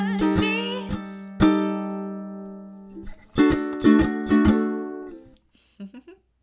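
Ukulele strums chords for the bars of a song with a full band behind it, in a few loud sustained bursts that ring out and fade to near silence at the end.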